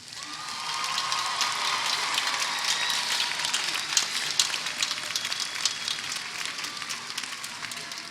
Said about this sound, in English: Now please give a round of applause for our graduating seniors.